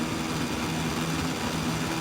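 Motorcycle engine in MotoGP 22 held at steady high revs on the Silverstone British Grand Prix grid, a continuous loud buzzing drone with no change in pitch and no talking.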